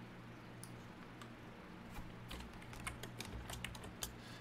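Typing code on a computer keyboard, with soft scattered key clicks that pick up into a busier run of taps in the second half over a steady low hum.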